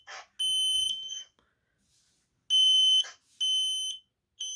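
A P3010H smoke alarm with an escape light sounds a series of loud, piercing electronic beeps, several long tones separated by short silences, heard alone at close range.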